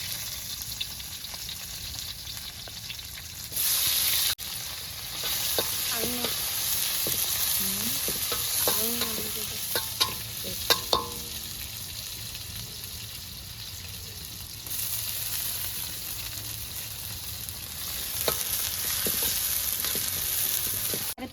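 Onions and masala frying in a pan for an egg and chicken curry, a continuous close sizzle with scraping stir strokes and a few brief louder bursts throughout.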